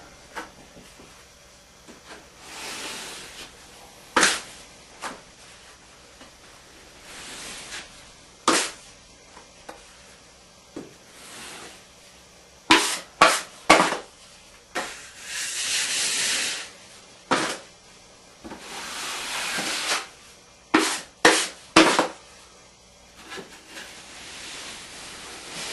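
Drywall knife scraping joint compound into an inside ceiling angle during a drywall overlay over asbestos ceilings, heard as repeated short scrapes and longer smooth strokes in a quiet room, with no talking.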